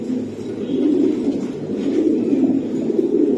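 A racing pigeon, a female banded for 2021–23, coos in a steady low, continuous murmur close by, with no talking over it.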